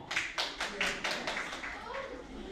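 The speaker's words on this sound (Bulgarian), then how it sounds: "С вашите аплодисменти ще бъде предаден." An audience applauds at an award ceremony for the best reciters of a Vaptsarov recitation contest, with a short run of rhythmic hand claps, fairly close and moderately loud, and voices murmuring alongside.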